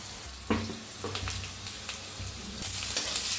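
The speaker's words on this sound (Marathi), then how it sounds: "त्याच्यात आता हिरवी मिरची लसूण कुटलेला शेंगदाणे ते बी असं भाजून घेऊया" Green chili, garlic and crushed peanuts roast in a hot pan, giving a continuous sizzle and crackle with occasional sharper stirring scrapes and pops.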